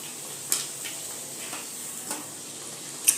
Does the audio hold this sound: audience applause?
no